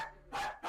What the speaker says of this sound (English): We can't forget his signature bark too.